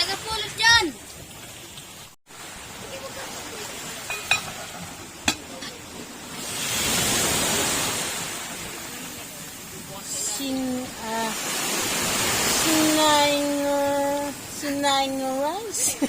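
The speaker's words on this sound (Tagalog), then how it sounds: "pumapatak ang ulan." Steady rain pattering on a surface outside a hut while rice cooks indoors, a broad wash of drops swelling in the middle, with speech and clattering kitchen sounds over it.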